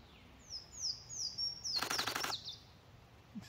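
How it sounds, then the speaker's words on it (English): A Louisiana waterthrush, an early migrant along the Cahaba River, sings a series of clear, loud, descending whistled notes up close, followed by a brief harsh burst and a quieter chip. "He's singing pretty loudly. You can probably hear him."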